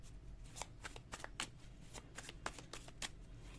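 Tarot cards being shuffled close up, a continuous run of quick papery riffles and flicks in irregular rhythm, soft and with no speech.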